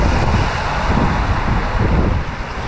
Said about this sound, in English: The wind makes it better.